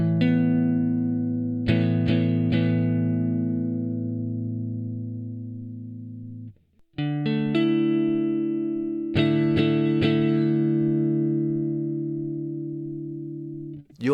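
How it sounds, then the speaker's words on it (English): A distorted electric guitar strikes a power chord with an added ninth. It rings out twice with long sustains, with quick picked strums at each attack and a brief gap between, and no voices. "the standard power chord consists of two tones, the root and fifth. We can add notes around this formation, such as the ninth, as follows."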